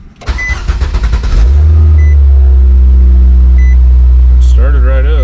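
A 2019 Nissan Sentra, just fitted with a new fuel pressure sensor, cranks with a quick rhythmic starter whir for about a second, then catches and settles into a loud, steady idle, with a short chime near the end.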